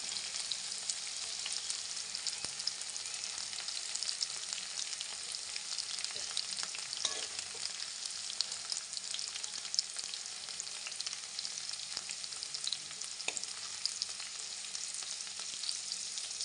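Okra pieces fry in hot oil, giving a continuous, even, hissing crackle that stays steady and moderately quiet throughout with faint occasional ticks and no voices.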